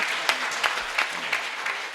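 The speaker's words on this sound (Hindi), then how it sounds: "अगर उनकी तालियों की मोहर मिल जाए" Audience applause at a Hindi poetry recital (kavi sammelan) in Greater Noida: dense, steady clapping from a crowd with a few sharper bursts, moderately soft and continuous with no voices.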